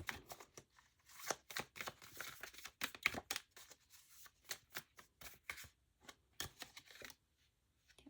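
Tarot cards being shuffled and drawn for a reading: a run of crisp, papery riffling and slapping bursts that come close together, then thin out into a few sparse flicks near the end, with no voices.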